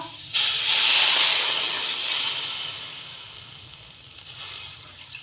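A glass of water hits hot chicken karahi cooking with garlic and ginger, bursting into a loud sizzling hiss that slowly fades over a few seconds, with a brief swell near the end.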